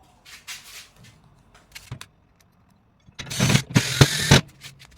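A power driver sinks 3/4 inch self-tapping number 8 screws into a grill deck, with a brief whir early on, a few clicks, then a louder buzzing drive near the end, close by and without talk.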